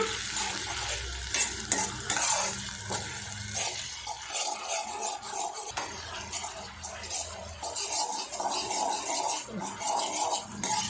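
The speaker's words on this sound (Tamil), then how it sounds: "பச்சை வாசம் போகிற அளவுக்கு நல்லா வதக்கி விட்டுருங்க" Onion, tomato and ginger-garlic paste sautéed in a pan for egg gravy: close, continuous frying sizzle with repeated scraping and clinking of a spoon stirring against the metal, fairly loud and without speech.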